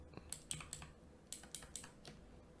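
Someone types on a computer keyboard, a quick run of crisp close key clicks in two short bursts separated by a brief pause, quiet and with no voices.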